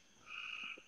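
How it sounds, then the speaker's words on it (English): A frog croaks at night in a single steady droning call, faint and somewhat distant, with no voices. "I know Uncle Jim wanted to hear the frogs"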